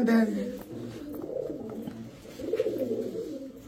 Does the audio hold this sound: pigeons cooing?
yes